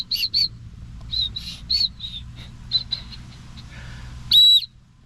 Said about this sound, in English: it's also advertised as a pet whistle